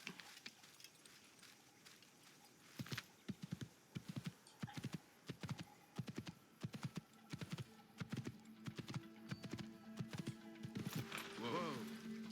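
Horse hooves clip-clopping in the video game Assassin's Creed, a steady run of close, distinct hoofbeats with a brief whinny near the end and a voice talking over parts of it.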